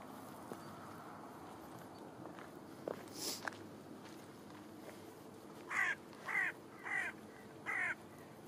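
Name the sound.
crow cawing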